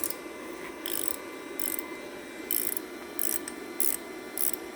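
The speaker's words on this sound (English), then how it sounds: "flip the wrench the other way" A ratchet wrench clicks in short bursts as it works loose a very tight stud, about seven quick ratcheting runs spaced evenly over a steady background hum, close by with no talking.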